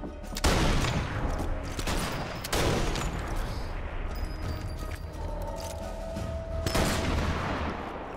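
Gunfire in the video game Sniper Elite 4, a few sharp loud shots with a dense rumbling battle texture between them, continuous and close with no talk.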